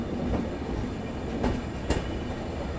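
Indian Railways train rolling on a ghat section, a steady close rumble with a few clicking wheel knocks spaced over the track.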